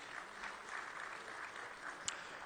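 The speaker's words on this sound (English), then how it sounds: "can you kindly give her a warm round of applause once again?" A faint, distant, steady wash of audience applause fills a conference closing ceremony on food sovereignty in Dakar, with a single brief sharper clap near the end.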